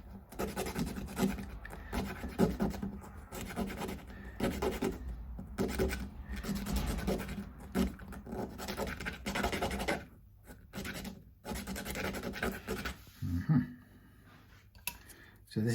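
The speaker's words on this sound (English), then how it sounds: "this is just a homemade device that I use for cleaning fret slots" A homemade tool scrapes and grinds through the fret slots of an Ibanez S520 guitar neck, with close, continuous rasping strokes broken by short pauses.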